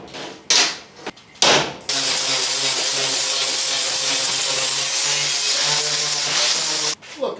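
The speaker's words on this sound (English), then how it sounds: "I am going to go through and polish them all up real quick." Metal smoker grates being polished with a power tool: a few short bursts, then a loud, steady grinding whir that holds for about five seconds before stopping, with brief restarts at the end.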